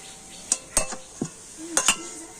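A spoon or spatula scrapes and clinks against a pan while a thick, sweet mixture of stale roti is stirred over low heat, giving a few sharp, close knocks amid quiet scraping.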